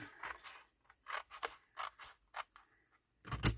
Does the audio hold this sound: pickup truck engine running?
no